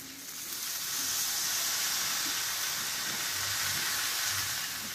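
Soaked split peas sizzling in a hot pan with ginger, chili and tomato, a steady loud frying hiss that holds evenly throughout.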